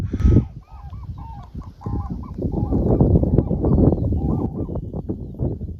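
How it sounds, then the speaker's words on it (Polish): Cranes call while flying overhead in open countryside, a loud honking clamor of several birds at first, then a dense, continuous chorus of overlapping calls that stays strong throughout. "I wiecie co? mi się wydaje, że to są żurawie."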